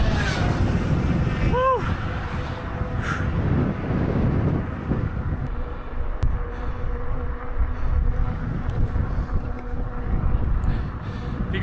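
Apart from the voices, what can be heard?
strong wind on the North German coast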